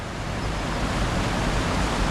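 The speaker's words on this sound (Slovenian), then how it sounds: "Zdaj pa da vidimo še glavni izvir reke Dabar." Water pours and rushes steadily at the main spring of the Dabar river, a small source lake in a karst area, making a loud, close, unbroken roar with no voices.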